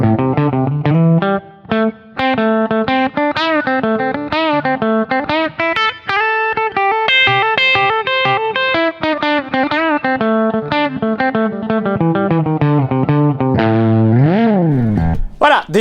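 Electric guitar played through an RHPF Elec Mosphoros overdrive pedal, drive set around noon, giving a mildly gritty, continuously ringing run of notes and chords with a pitch-bending slide near the end, loud and close with no talking.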